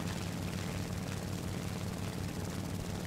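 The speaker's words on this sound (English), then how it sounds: "I'm gonna go in there with my float plane so I can definitely take back off." Float plane engine in the video game War Thunder, a flight with a Japanese aircraft, heard as a continuous, dense propeller drone with a low, pulsing throb and broad noise, steady and close throughout, with no talking.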